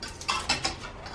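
A spoon stirs soup in a pot, making a few light metallic clinks against the pot's side in a quick, uneven rhythm, close and fairly soft.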